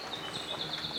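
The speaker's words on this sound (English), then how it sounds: "That's a red-breasted nuthatch, and this is a winter wren." Outdoors in woodland, a red-breasted nuthatch and a winter wren call. A high, steady run of repeated chirps and trills carries through, soft and moderately distant, over faint background rustle.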